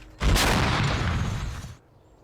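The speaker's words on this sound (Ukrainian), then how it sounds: "Це британсько-австралійська гармата. Л-119 назва. Е, калібр 105." A British-Australian L119 105 mm howitzer fires once: a sudden loud boom followed by a broad, rolling blast that fades out after about a second and a half.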